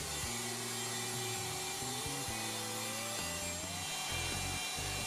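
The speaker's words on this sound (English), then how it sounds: "the pinboard is routed." Power router cutting a wooden pinboard held in a clamped jig, a continuous loud whine with a shifting pitch and uneven grinding through the cut.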